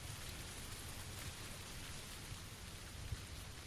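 Steady, faint rain falls in a PUBG match on the Erangel map, a soft even hiss of drops with a few slightly louder taps near the end, and no voices.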